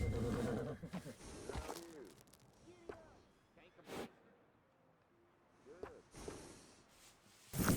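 A horse in the video game Red Dead Redemption 2 whinnies several times at a moderate distance, with short gaps between calls and some background rumble and clatter.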